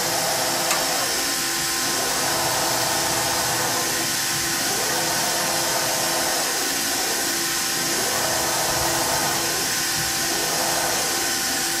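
Haas HA5C brushless fifth-axis rotary table on a machining setup indexing back and forth, a quiet whirring motor sweeping up and down in repeated cycles over steady machine hum and broadband shop noise.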